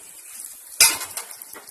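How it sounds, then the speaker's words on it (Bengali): Mutton, already browned in oil, goes into a pressure cooker to boil, giving one sharp metallic clatter of the pot and meat partway through, followed by softer knocks and a quiet sizzle. "দেখুন, এবারে আমি কুকারে এটা সেদ্ধ করতে দিচ্ছি।"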